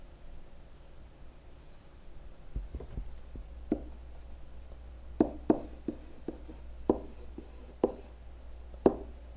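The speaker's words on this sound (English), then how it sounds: "Actually, I'll write the word per." A short word is handwritten, heard as faint, scratchy strokes that come in quick bursts. Some strokes are sharper and louder than others, over a quiet background hum.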